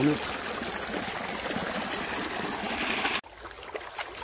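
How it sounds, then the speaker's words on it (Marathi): Steady rushing, trickling water runs close by down an irrigation channel for about three seconds, then cuts off abruptly into quieter background noise. "असं या पाटानं तिकडून पाणी आणले आणि असंच हे सरळ तिकडे जाते खाली"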